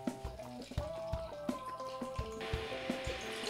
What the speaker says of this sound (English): Add our water.